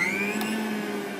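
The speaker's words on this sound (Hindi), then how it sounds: "लेकिन जब इसको आप मिक्सी में ऐसे घुमा देते हैं ना" A kitchen mixer grinder blends aloe vera gel, giving a steady, loud motor whir with a constant high whine that holds through the short stretch without any talk.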